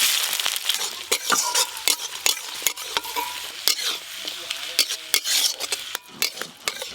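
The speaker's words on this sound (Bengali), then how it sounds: "তেজপাতা শুকনো লঙ্কা গোটা গরম মশলা হয়ে ফোড়ন করে নিয়েছি এবার পেঁয়াজ কুচি দিয়ে দেবো" Chopped onions hit hot oil tempered with bay leaf, dried red chilli and whole garam masala, sizzling loudly while a spoon stirs and scrapes the pan in quick, irregular strokes, heard close with no talking.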